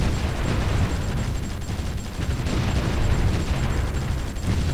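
Continuous artillery fire and explosions roll through a Supreme Ruler 2020 battle in Eastern Siberia, a dense, loud, unbroken rumble of overlapping booms lasting several seconds.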